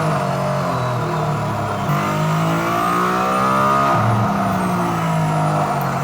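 Mercedes-AMG car accelerating hard at full throttle, heard from inside as a loud, continuous engine roar with pitch climbing and dipping through gear changes.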